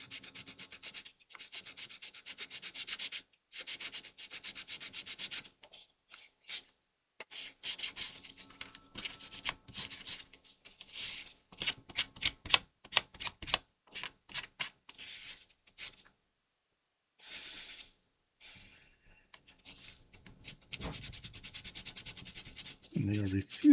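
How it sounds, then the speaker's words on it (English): Raised circles being sanded off an old model by hand, heard as close, quiet bursts of dry rubbing and scratching strokes in uneven runs, with short pauses and brief stretches of near silence between them. "these circles are raised and not indented, so I can just sand them down"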